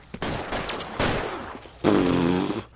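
Several loud gunshots ring out in a tense LA Noire shootout, sharp bursts of gunfire at close range with one heavy blast near the end, no voices over them.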